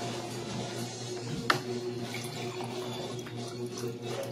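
Water poured or running into a container, a steady liquid wash over a low background hum, with one brief knock partway through.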